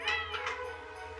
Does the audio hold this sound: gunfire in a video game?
no